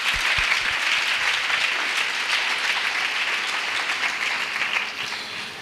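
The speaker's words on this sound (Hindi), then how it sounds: "आइए हम प्रभु के दास के लिए ताली बजाएंगे।" Congregation at a church prayer festival in Raipur giving a round of applause, dense steady clapping that fades slightly toward the end, with no talk over it.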